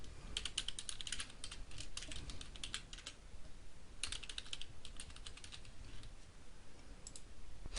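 Bursts of computer keyboard typing while signing in to Blogger, quick clusters of keystrokes separated by short pauses, close and fairly quiet.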